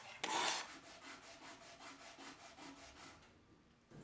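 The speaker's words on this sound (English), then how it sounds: "Hand sanding the blade is a very tedious experience, especially after hand filing the bevels." Sandpaper rubbed by hand along a steel knife blade, a quick run of rhythmic back-and-forth scratching strokes, close and fairly quiet, after a louder scrape at the start and ending with a final rasp.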